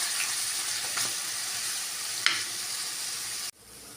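Sliced karunai (elephant foot yam) tuber fries in a pan over a low flame, giving a steady soft sizzle with a couple of faint clinks before a sudden drop to quieter sizzling near the end.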